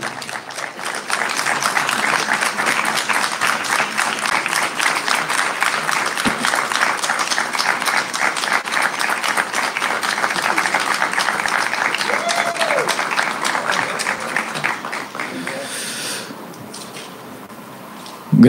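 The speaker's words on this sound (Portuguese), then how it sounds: "Grande aplauso ao primeiro secretário da Assembleia Municipal, Rodrigo Conceição" An audience at a formal 25 April commemorative session gives sustained applause for the first secretary of the Municipal Assembly, steady clapping that lasts most of the clip before thinning out near the end.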